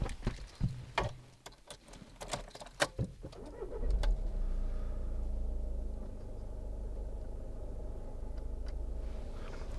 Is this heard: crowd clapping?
no